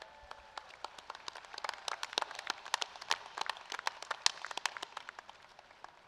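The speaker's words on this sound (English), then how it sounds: "Applaud them as you stand here ready to graduate" An audience at a 2016 Rowan College of Education commencement ceremony applauds graduates' families, with steady, dense clapping from many hands that holds at moderate loudness throughout.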